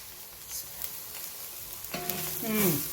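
Dry-fried breakfast mixture being stirred in a wok, with a soft scraping and sizzle that swells near the end as the spatula turns the food, up close and without voices.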